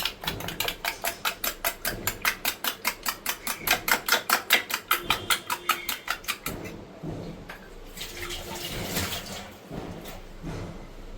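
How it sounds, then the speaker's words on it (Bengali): Two eggs with salt and black pepper are beaten in a bowl: rapid, evenly spaced whisking strokes for about six seconds, then quieter scattered clatter. "দুটো ডিম নিলাম, আর এর ভিতরে একটু নুন আর দিয়েছি গোলমরিচ দিয়ে এটাকে একটু ভালো করে ফেটিয়ে নেব।"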